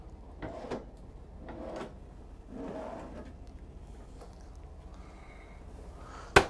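A few soft sliding rumbles of deep drawers opening and closing in a 2021 Newmar London Aire motorhome, muffled and close, ending with a sharp clack.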